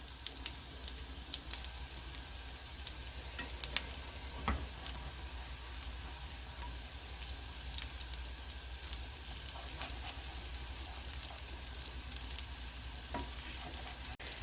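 A corn and potato pancake frying in oil in a pan, a continuous quiet crackling sizzle with fine scattered pops throughout and a couple of slightly sharper clicks, no talking.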